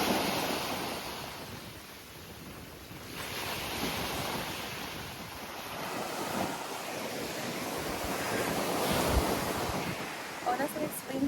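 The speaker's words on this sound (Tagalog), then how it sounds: "We're off to the sea. The sea is there." Surf rolls continuously onto a seashore under gusty wind that buffets the microphone, a steady broad roar that swells and eases throughout.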